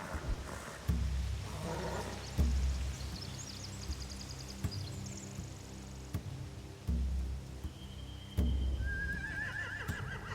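Horses in The Walking Dead game whinny and snort repeatedly, several high wavering neighs rising over low stamping thuds and a dull ambient rumble, fairly close and with no talk.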